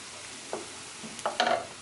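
Pureed vegetables for a plant-based eggplant lasagna cook in a pan with a faint sizzle. A few brief scraping stirs come close by.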